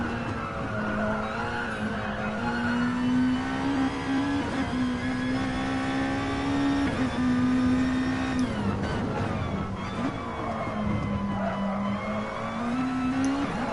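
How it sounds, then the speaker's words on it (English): Nissan Group A race car in Gran Turismo Sport heard from the cockpit on Sardegna Road Track A, a loud continuous engine drone rising and falling through gear changes, with brief tire squeals, no talk. "Just listen to his engine noises."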